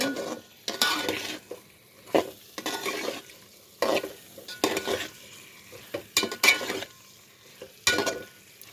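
Boiled taro fries in a pan as it is stirred, bursts of sizzling and scraping utensil strokes coming in uneven pulses with quieter gaps between, close up and with no talk.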